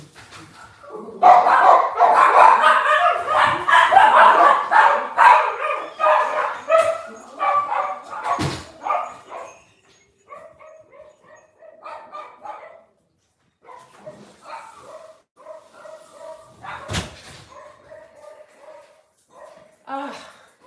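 A dog barks in repeated short bursts close by, starting loud and busy with whimpering yips, then thinning to sparser, fainter barks, while a person talks over much of it.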